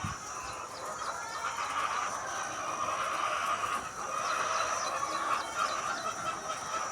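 A crowd of laying hens in a 5,000-bird poultry shed clucks and chatters continuously over a steady mechanical hum, the calls overlapping without pause.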